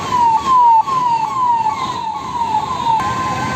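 An ambulance siren from a convoy of animal ambulances in Uttar Pradesh wails in a quick repeating downward-sweeping pattern, loud and close, over a background of road and crowd noise.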